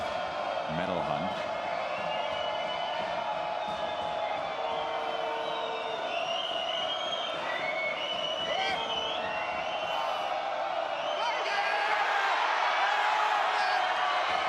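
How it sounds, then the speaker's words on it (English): Crowd at a weightlifting world championship in the +105 kg class, a steady roar of cheering and whoops that swells near the end, with a commentator talking over it throughout. "this place is cheering for the right reasons now"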